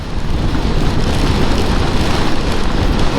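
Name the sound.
rain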